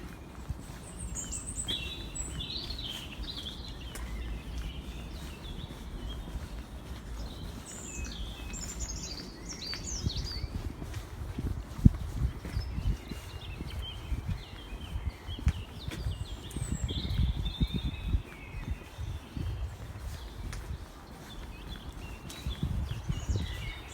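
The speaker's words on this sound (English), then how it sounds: "I hope you can actually hear the birds as well" Several spring birds sing and chirp at a distance in quiet outdoor air at Hampstead Pergola, North London, with scattered calls throughout and soft rustling and footsteps close by.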